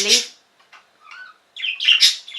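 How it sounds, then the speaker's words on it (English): A nearby bird gives a few short chirps and tweets, bursting at the start, going quiet for a moment, then chirping again loudly toward the end. "Please, bird, be quiet."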